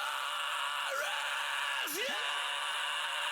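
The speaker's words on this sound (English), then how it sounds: "lots of awesome screams" Harsh, distorted vocal screams by a male metal singer within a dense industrial metal recording, with two swooping pitch bends cutting through a wall of sustained guitars.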